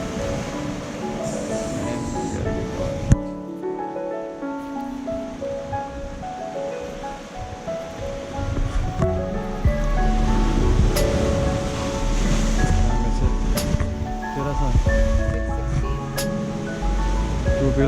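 Powerful ocean surf breaks and rolls along the Hawaii coast near Diamond Head, a steady roar that swells louder in the second half with faint wind over the microphone.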